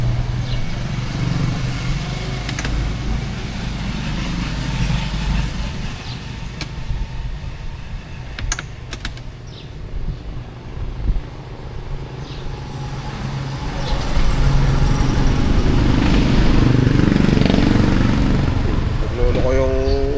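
A balky motorcycle that is reluctant to start idles with a low rumble, then its engine grows louder and fuller near the end as it runs steadily close by.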